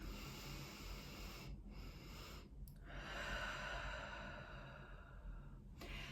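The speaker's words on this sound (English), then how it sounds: "what I just did now is like 360 breathing" A slow, deep breath during a 360 breathing exercise, with the ribs expanding outward and a long exhale, heard as a soft continuous breathy rush with brief pauses, close and steady.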